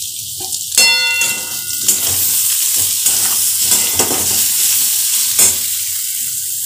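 A pumpkin and potato curry in a pan sizzles loudly and close while a utensil stirs it, scraping and clanging against the metal several times over a constant frying hiss, with no talking.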